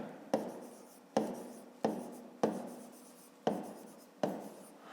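Pen strokes on paper while working a fifth-grade math exercise, close and fairly quiet, six distinct scratchy strokes arriving at irregular intervals with brief pauses between them, no voices present.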